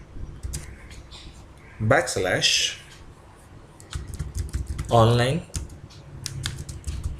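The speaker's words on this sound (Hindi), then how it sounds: "यहाँ पर हम लोग टाइप करते हैं e:/online" Quick keyboard typing clatters in short bursts while someone speaks at intervals over it, entering a file path on a computer keyboard.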